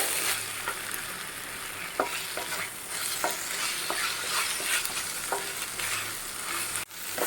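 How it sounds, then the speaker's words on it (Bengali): Masala with garlic paste is stir-fried for a chicken dish, a utensil scraping and knocking against the pan in irregular strokes over a constant loud sizzle, close up and free of speech. "রসুনের পেস্ট অ্যাড করে দিলাম এবার কষাবো ভালো করে"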